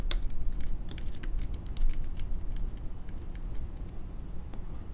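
Steady keyboard typing while entering LaTeX code on a computer for a document, quick irregular clicks over a continuous low hum.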